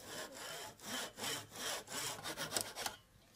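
A hand saw trims dried, glued wooden reinforcement pieces flush while making a mortise gauge, cutting in steady back-and-forth strokes that rasp close and clear with no voices.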